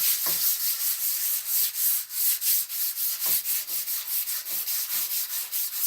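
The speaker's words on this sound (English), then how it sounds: "So I gotta sand it down just a little bit." Sandpaper rubs back and forth over a spray-painted surface to smooth its texture, in repeated rhythmic strokes that are loud and close, with no one speaking.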